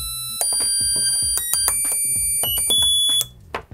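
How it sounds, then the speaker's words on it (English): A homemade electronic piano built from a DIY soldering kit beeps out a quick run of buzzy, shrill tones, each note sounding in turn at steady loudness before it cuts off, with no voices. "So it works, that's our little electric piano."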